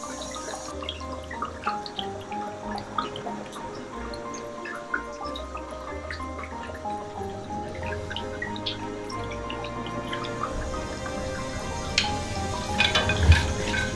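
Schnapps distillate drips from a hot still during distillation: a run of small liquid drips and trickling splashes over a low background hum, gradually busier toward the end, with no talking.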